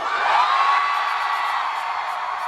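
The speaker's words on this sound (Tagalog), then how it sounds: "Lahat ng mga proud kay Dome sumigaw" A crowd at a mall meet and greet cheers and shouts in one sustained loud roar of mixed voices, holding steady for a few seconds.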